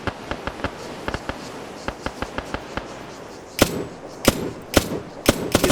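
A machine gun fitted with an ACOG scope firing in Arma on the Altis map, sharp distant shots in irregular short bursts, then several louder, closer cracks toward the end.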